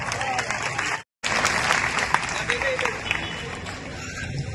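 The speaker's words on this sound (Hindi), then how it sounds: "खासकर जोरदार तालियां" Crowd applause at a municipal plog run event on fitness and cleanliness: a broad wash of clapping and murmuring voices, briefly cut to silence near the start, then continuing steadily at moderate level.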